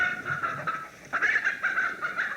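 Chickens on a farm clucking, a run of close, nasal squawks and cackles in quick irregular bursts, with one louder bird breaking in midway and no voices over them.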